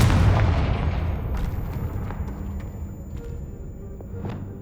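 A Confringo fire spell blast in Hogwarts Legacy, a booming burst that hits hard at the start and rolls into a long fading rumble, with faint crackles scattered through the decay.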